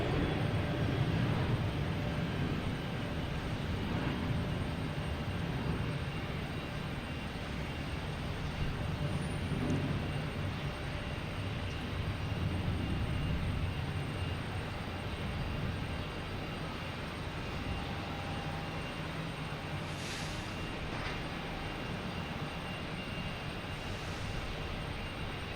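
A JetBlue A320 arriving from Punta Cana at Boston Logan gives off a faint, distant, steady engine rumble that holds evenly throughout, with no talking.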